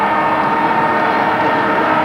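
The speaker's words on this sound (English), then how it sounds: "There's the siren." The end-of-quarter siren sounds at the MCG during an Australian football grand final, a steady sustained tone partly buried under a loud, continuous crowd roar.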